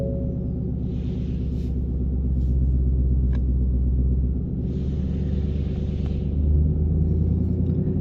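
A 2020 Saleen Mustang engine running during an on-demand self-test, with a steady, deep, close rumble at idle that holds evenly throughout.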